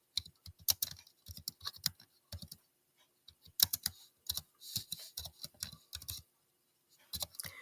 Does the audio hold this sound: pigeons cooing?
no